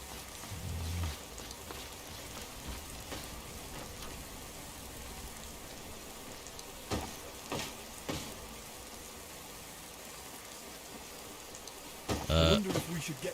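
Steady rain falls across a Skyrim game scene at night, a soft continuous patter with a few brief louder knocks and a short burst near the end.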